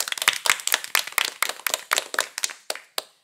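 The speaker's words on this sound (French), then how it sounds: "Nous pouvons applaudir chaleureusement" A small group claps steadily and briskly for a few seconds, then the claps thin out to a few scattered ones before stopping.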